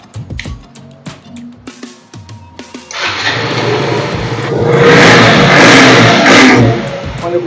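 A second-hand KTM RC 200 motorcycle at a used bike market is started after some clicks and handling noises, then idles and revs up loudly nearby with a swelling, throaty engine roar.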